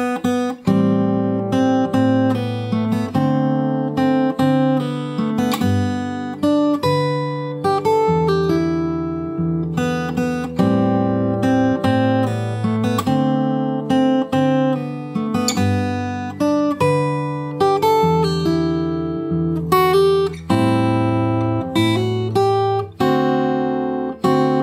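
Fingerstyle acoustic guitar plays the chorus of a song, a steady stream of picked bass notes and ringing chords played close and continuously, with no voices.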